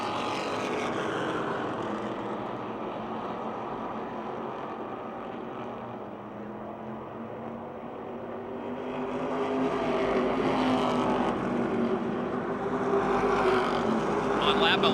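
Race cars roar around the Motordrome Speedway oval in a pack battling for position, their engine noise rising and falling steadily under continuous commentary.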